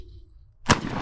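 A single loud 12 gauge shotgun blast during clay target shooting, a sharp close report that cuts in after a near-silent moment and rings out briefly.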